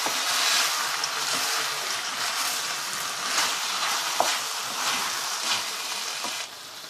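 Chicken rice stirred in a wok, a loud, steady frying hiss with scraping and the occasional clack of a spatula, close-up, easing off near the end.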